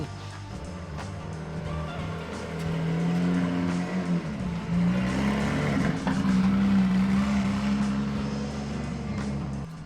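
A Porsche 911 GT3 engine outside a workshop rumbles into life, its deep idle building in loudness partway through and holding a steady, somewhat distant drone.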